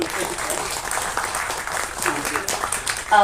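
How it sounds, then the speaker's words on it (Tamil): Audience clapping at a Tamil event honouring a musician, a dense continuous round of applause filling the room, fairly loud and close, with voices mixed in. "எல்லாருக்கும் முதல்ல ஒரு பெரிய நன்றி சொல்றதற்கு ஒரு கரகோஷம் கொடுத்துருக்கிறேன்"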